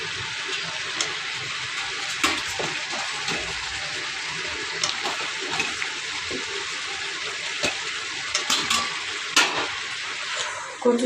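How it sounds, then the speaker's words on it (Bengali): Taro stolons sizzle and crackle as they are stir-fried in a pan, a constant hiss broken by sharper scrapes and clinks of stirring, loudest toward the end. "কচু ছোলা কষিয়ে নিচ্ছি।"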